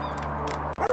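A dog whimpers in the VR game House Builder VR, giving a short, plaintive, close whine over a steady low hum, ending with a brief break and a higher yelp.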